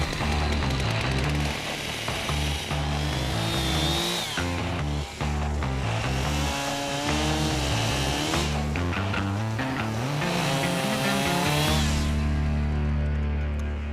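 A chainsaw cuts through wood, its engine loud and close, revving and bogging as the chain bites into the timber, with the pitch rising and falling in several waves over a sustained run.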